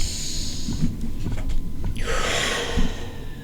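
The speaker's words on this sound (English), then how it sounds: "Take another breath." A person takes a deep breath, a close, soft inhale followed by a longer rushing exhale in a quiet room.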